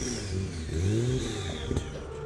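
The 1,100-horsepower AMS Performance Alpha 12 Nissan GT-R revs on pump gas, its engine note rising and falling in quick swells, fairly close, with a brief sharp clatter near the end.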